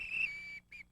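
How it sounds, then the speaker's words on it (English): A single sharp whistle blast, loud and close, holds steadily for about half a second, then a quick second short toot follows after a brief gap. "How about my whistle?"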